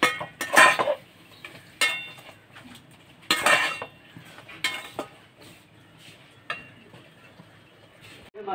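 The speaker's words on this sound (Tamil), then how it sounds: "இதையும் நல்லா வதக்கலாம்." Ingredients for mutton biryani being stirred and sautéed in a pan, with a spoon scraping and clinking against the metal in irregular taps and scrapes, fairly close, with no talking.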